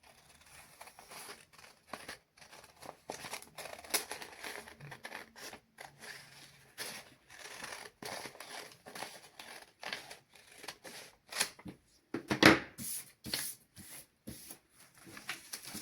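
Scissors snip through fabric being cut for children's clothing in a tailoring class, making a series of close, crisp cuts with short gaps and some soft rustling of cloth, with no talking.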